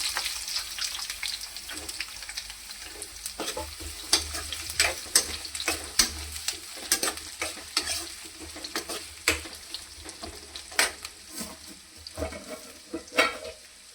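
Onions sizzle and fry steadily in a pan for kheda bhaji, with repeated scraping stirs of a spoon clattering against the metal at an irregular rhythm, close and fairly quiet.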